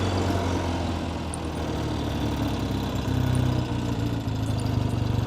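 A 1970 Triumph TR6R's air-cooled 650cc parallel twin runs steadily nearby, a continuous low rumbling drone with no speech.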